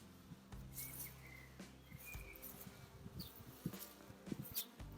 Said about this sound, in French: Il y a un peu plus d'abeilles qu'avant quand même.